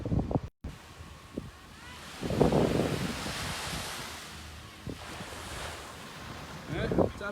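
Atlantic Ocean waves wash in at Miami Beach with a steady surf roar, heavy wind buffeting the microphone, and a few louder gusts and breaking swells.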